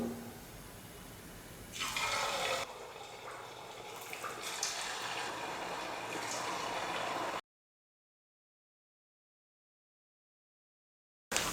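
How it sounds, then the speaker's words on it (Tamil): Rice flour snacks deep-fry in hot oil in a kadai with a steady, close, hissing sizzle that swells briefly, then cuts off abruptly into silence. "ஒரு 5-6 செஞ்சு வச்சுக்கிட்டு நம்ம எண்ணெயில் போட்டு பொரிச்சு எடுத்தோம்னா கொஞ்சம் ஈஸியாக இருக்கும்"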